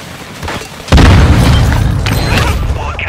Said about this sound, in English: Using drain charge.